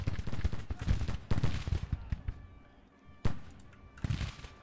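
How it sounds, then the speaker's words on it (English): Artillery bombarding a bridge in the Civil War strategy game Grand Tactician, heard as a rapid string of distant gunfire bursts, then a lull and two more sharp salvos, moderately faint. "we're going to see if we can get a bombardment rolling right around here"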